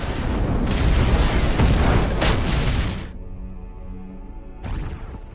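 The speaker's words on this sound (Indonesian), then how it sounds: "akhirnya jebakan yang dipasang broker pun meledak dan membakar seisi pabrik" A trap explodes inside a factory in a film scene, a loud, close, roaring blast that holds for about three seconds, then drops to a low rumble with tonal hum before a second, shorter burst near the end.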